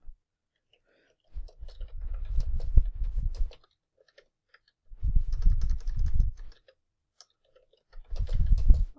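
Someone types on a computer keyboard in three separate bursts of soft, rapid key taps, with quiet pauses between them.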